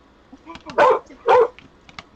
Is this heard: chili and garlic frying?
no